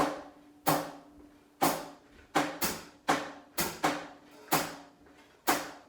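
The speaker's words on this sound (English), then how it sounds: "the bossa clave" Bossa nova clave rhythm played on a drum kit, a pattern of sharp, evenly spaced hits with a few closer pairs, loud and close with no talking.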